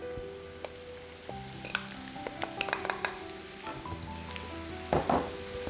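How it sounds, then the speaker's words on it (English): Cabbage frying in a pan with onions and a spice mixture, a steady close sizzle broken by scattered stirring clicks and scrapes, with a louder crackling burst near the end. "this is the point where you start adding in the cabbage"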